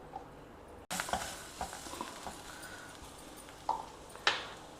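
Sabji of groundnut, coconut and sev simmering in a covered pan, with a soft steady sizzle and scattered light pops and clinks, fairly quiet.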